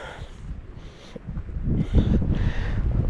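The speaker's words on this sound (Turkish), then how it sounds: "Arkadan felaket yağmur ve rüzgar vuruyor arkadaşlar" Strong wind and rain buffet a microphone out in a cattle pasture in November, low rumbling gusts swelling and subsiding in heavy bursts close to the mic.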